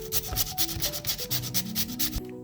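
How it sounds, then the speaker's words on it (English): Pumpkin is rubbed back and forth across the fine side of a hand grater in quick, rhythmic rasping strokes, close up, roughly a dozen scrapes before stopping abruptly. "he's grating the pumpkin here"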